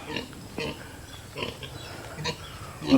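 A pig in the Philippine countryside near Coron grunts repeatedly in short, irregular snorts close by, with faint talk in the background.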